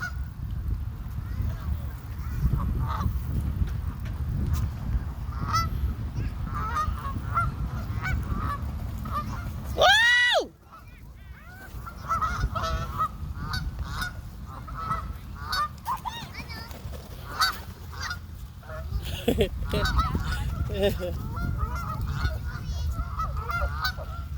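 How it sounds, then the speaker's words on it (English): Ducks and geese honk continuously while being fed, a dense, noisy flock heard up close, with one loud squeaky call standing out midway and faint voices in the background. "look at these fools trying to feed the ducks"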